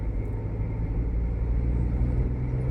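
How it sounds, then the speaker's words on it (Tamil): Used car being driven on a test drive, a steady, close engine and road rumble running continuously with no talk over it. "இந்த வண்டி இப்போ நம்ம டெஸ்ட் ட்ரைவ் பண்ணிகிட்ருக்கோம்."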